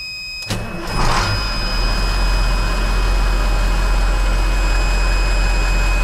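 A car engine idles steadily and evenly after a brief clunk at the start, a loud, close, continuous low rumble with no speech.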